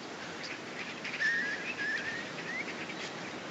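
Synthesized marsh bird calls generated by machine learning from field recordings: thin, wavering whistled chirps that rise and slide over a steady airy background hiss, moderately quiet, with no voices.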